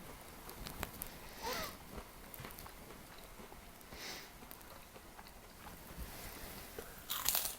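Bites into fried barbagiuan, a Monaco street-food pastry, give a few crisp crunches and soft chewing. The sounds are faint and close, with quiet background noise.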